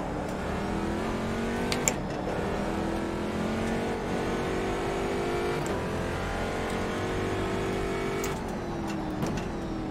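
Race car engine in the rFactor 2 driving simulator on a laser-scanned Sebring circuit, a steady loud drone rising and falling through gear changes for the whole stretch, with no talk over it.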